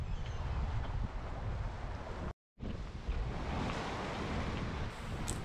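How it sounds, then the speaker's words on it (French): Choppy sea off Pointe Saint-Mathieu rushes and breaks against a sailboat in a continuous wash of surf and wind buffeting the microphone, briefly cutting out to silence midway. "la mer devient un peu plus cassante"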